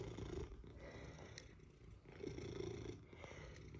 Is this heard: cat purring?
yes